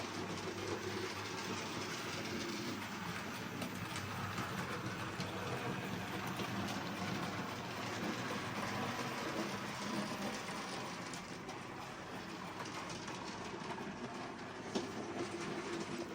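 A small home-built model railway train runs steadily around its layout, a continuous close rumble and rail clatter with a faint clickety-clack and motor hum, alone and unbroken throughout.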